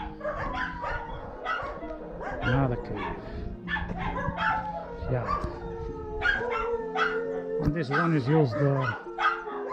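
Several dogs bark, yip and howl from caves dug beneath a castle rock, an echoing, varied chorus that continues throughout while people talk nearby.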